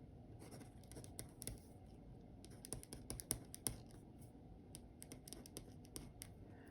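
Rapid, uneven clicks of small calculator keys being pressed, close and fairly quiet, with short pauses between bursts and no talking.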